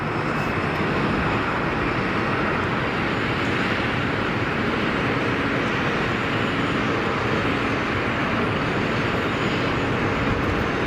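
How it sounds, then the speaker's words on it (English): Sustained loud roar of an airliner landing at Geneva Airport with bucket thrust reversers deployed, a dense continuous rumble and hiss holding steady throughout. "Nice bit of bucket reverser action."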